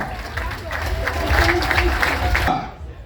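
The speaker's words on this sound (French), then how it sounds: "On applaudit très très fort monsieur Siok Charles et son équipe" Audience applause at the Miss Guyane pageant evening, a broad steady wash of clapping with crowd noise that swells and then cuts off sharply near the end.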